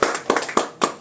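Sharp claps ring out in a meeting hall at an even pace, about four near, crisp smacks, each standing clear of the quiet between them.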